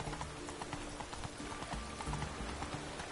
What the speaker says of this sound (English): Oh, I can't gallop through this area.